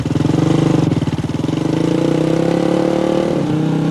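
A motorcycle engine pulls away with a steady, rising drone and a rhythmic throb, loud and close, continuous with no voices over it.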